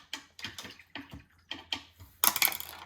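A watercolor paintbrush is rinsed in a water cup, swished in a quick rhythm of small close splashes and taps that end in a brief busier flurry.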